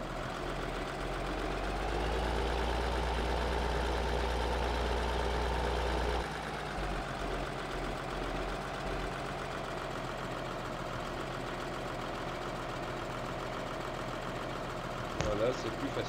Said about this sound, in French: Voilà, on va prendre le tracteur.